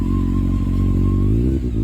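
A Honda CBR 600F4i sport motorcycle engine revs up close, a loud, buzzing inline-four note climbing in pitch with a brief throttle blip near the end.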